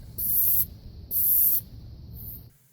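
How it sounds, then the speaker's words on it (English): Air hisses from the valve stem of a car tire on a Nissan or Infiniti as it is deflated to 34 psi, two sharp close bursts and a softer third, each under a second. "attach our tire gauge, and deflate it down to 34 psi."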